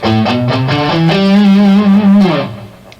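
Distorted electric guitar running a quick natural minor scale with the sixth left out, a rapid ascending run of notes that settles on a held tone before fading, close and alone.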